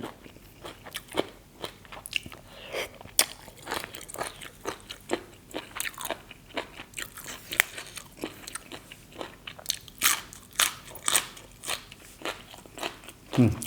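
Close, crisp crunching and chewing of crunchy blood cockles and kale, with repeated bites and steady crunches, rather loud against a quiet background.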